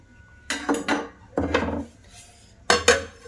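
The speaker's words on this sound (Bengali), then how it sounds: "ঢাকনা চাপা দিয়ে দেব।" A lid placed over a pot of soaking carrot pulao, three separate metallic clanks, each ringing briefly, close and fairly loud against a quiet kitchen.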